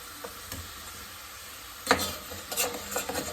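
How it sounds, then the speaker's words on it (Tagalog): Beef pieces turned over in a hot pan for a home-cooked soup, a steady low sizzle with a few scraping stirs and clatters building toward the end, close and alone. "baliktarin natin muna yung karne"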